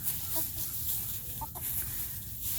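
Laying hens cluck softly and steadily at a homestead, with a few brighter calls rising over constant broadband background noise, fairly close.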